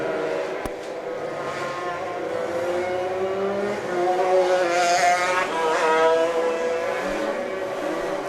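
Shifter karts racing on a track during a main event, high-revving engines buzzing loudly and layered as several karts pass close by, pitch rising and falling with acceleration.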